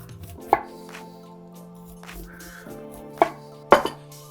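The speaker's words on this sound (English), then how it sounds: "We're gonna cut our corn up and then we're going to assemble." A knife chops corn on a cutting board for a steak fajita bowl, three sharp close thuds spaced irregularly over a quiet steady background hum, with no one speaking.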